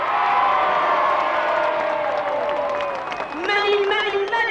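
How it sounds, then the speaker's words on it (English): A street-party crowd cheers and whoops for a road-building workforce, a broad sustained roar with scattered shouts and claps building toward the end, with a voice speaking over the start. "So how about a huge cheer for the most amazing workforce who's made all your dreams come true?"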